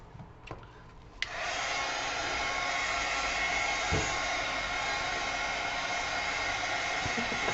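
A hair dryer blows steadily on a junk journal cover, switching on after a brief quiet moment and then running loud and continuous with a few faint handling knocks.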